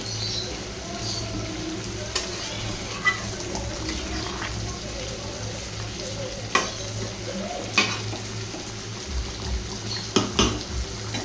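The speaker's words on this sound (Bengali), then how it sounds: "এবারে দেখো মাংসটা ফুটছে" Chicken curry bubbles and sizzles steadily in a pan while a utensil scrapes and knocks against the metal every few seconds.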